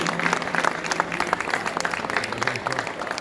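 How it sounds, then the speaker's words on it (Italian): Audience clapping at an a cappella Sant'Agata song performance, a dense steady patter of many hands sustained throughout at moderate distance. "io vorrei fare un grande applauso"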